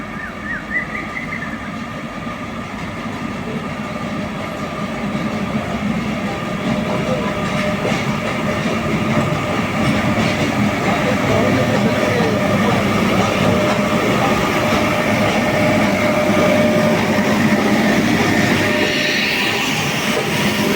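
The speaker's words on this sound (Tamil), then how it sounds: "டாய் ட்ரெயின் மேட்டுப்பாளையத்துக்கு அரைவல் ஆகிட்டு இருக்குது" Nilgiri toy train pulling into Mettupalayam station, a loud, steady rumble with clattering wheels and rail noise that builds gradually and holds close by.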